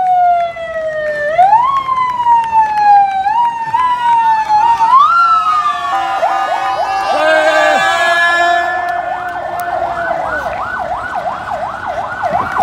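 Loud emergency siren on a firefighters' vehicle at Disneyland Paris during a run weekend: the wail sweeps up and down, then breaks into rapid repeating yelps, very close and continuous over road noise.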